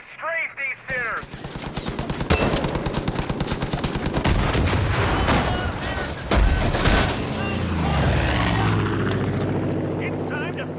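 Strafing gunfire in the shooter game Far Cry, sustained rapid bursts and heavy firing with aircraft engine drone beneath, loud and continuous, with a voice speaking briefly near the start.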